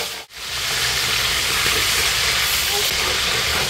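Food sizzles hard in hot oil as it is fried quickly, producing a loud continuous crackling hiss right after a brief dip at the start, with a faint voice underneath.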